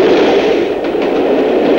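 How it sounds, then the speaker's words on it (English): A train rushes past a level crossing with flashing lights and lowered barriers, a loud continuous roar close by with no break. "Within seconds, the train will pass."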